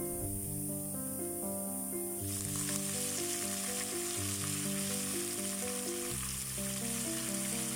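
Coconut pieces and curry leaves frying in a tablespoon of oil in a pan on the stove, a steady close sizzle with crackling hiss, alone over background music.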